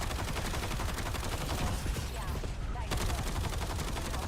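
Sustained automatic gunfire from the video game Call of Duty Black Ops 7 forms a dense, unbroken rattle of rapid shots that fills the whole stretch at steady loudness.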